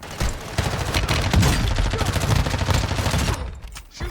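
A SCAR-L rifle fires rapid, dense bursts in Warzone 2 online play, close and loud and almost continuous for several seconds, then easing into sparser shots.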